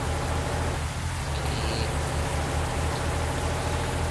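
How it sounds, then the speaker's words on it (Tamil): Steady rain falling in a bus simulator video game, a dense, continuous hiss of drops with a low rumble underneath, loud and unbroken throughout with no talking. "அதுக்குள்ளே மழை பெய்ய ஆரம்பிச்சிச்சு"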